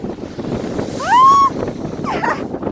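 Waves and wind at Ilıca beach town before a storm roll as a rough, close rushing wash, with a brief whistling, rising call cutting through near the middle.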